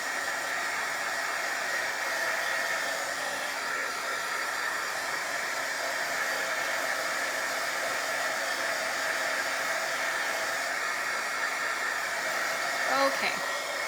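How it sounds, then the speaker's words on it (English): A heat gun used for embossing blows with a steady, even whirring hiss that holds constant throughout, close and fairly loud. "this is just my heat gun for embossing"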